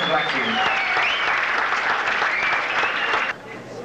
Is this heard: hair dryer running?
no